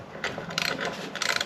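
A ratchet clicks in short bursts while tightening bolts on an Opel engine, three brisk clusters of close, bright metallic clicks separated by brief pauses.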